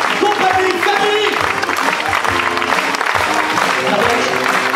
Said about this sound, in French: vous avez encore bien applaudir ce soir